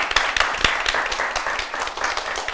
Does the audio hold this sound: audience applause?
yes